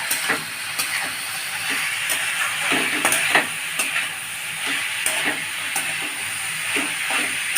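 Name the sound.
vegetables frying in a pan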